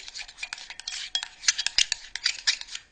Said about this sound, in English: Mix this together with your hand.